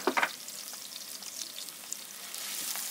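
Onions frying in a pan until lightly browned, a few clinks of a utensil at first, then a quiet, steady crackling sizzle close by.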